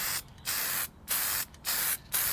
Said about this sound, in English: spray one more coat the same exact way for a total of two coats